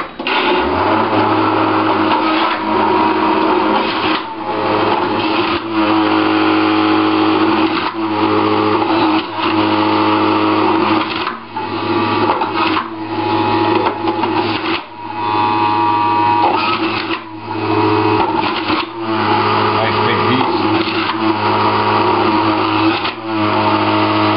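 An electric juicer grinds carrots as a loud, continuous motor whine with rough churning, briefly dipping and surging as each carrot is pushed through, with no voices.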